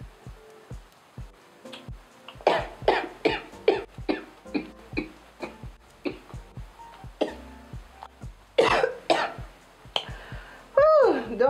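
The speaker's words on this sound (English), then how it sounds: "Don't mind the cough." A string of short, harsh coughs and throat-clearing bursts, close up, coming in irregular clusters with brief pauses between them.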